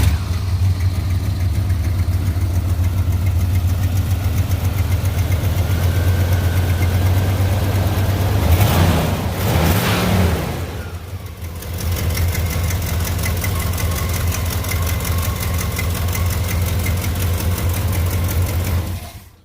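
A 1984 Dodge engine, warmed up after a factory ignition replacement, idles steadily with a low, even rumble and faint knocking, and revs briefly in the middle of the run before settling back to idle.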